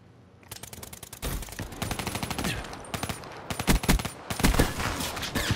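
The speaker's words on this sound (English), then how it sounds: "Who are all those sniper shots from?" Rapid gunfire from Call of Duty Black Ops 3, dense bursts of sharp cracks and volleys in quick succession, loud and close with overlapping shots and mechanical clatter throughout.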